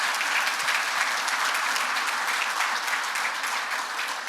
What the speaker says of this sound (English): If we can just give Northeast a huge round of applause for all they've done.